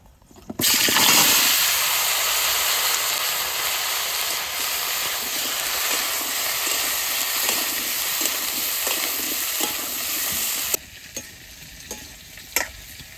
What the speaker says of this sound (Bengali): মাছ ভাজার তেলের মধ্যে প্রথমে ফুলকপিটা ভেজে নেবো